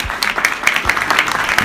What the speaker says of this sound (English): we need to give this lady a round of applause